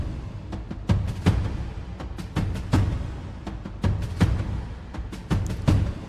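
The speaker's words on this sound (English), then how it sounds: "So I also got something from the FL Cloud. I got this little like marching band thing" Marching band percussion sample from FL Cloud in FL Studio: loud, busy rhythmic drum hits with crisp snare-like strikes over a dense low rumble, steady groove with no voices.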